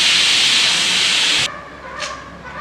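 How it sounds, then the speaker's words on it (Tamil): Pressure cooker on a kitchen stove making mushroom biryani, a loud sustained hissing whistle of escaping steam that cuts off suddenly, leaving a softer steam puff and quiet hiss. "குக்கர் வந்து விசில் வந்துருச்சு, ஆஃப் பண்ணியாச்சு"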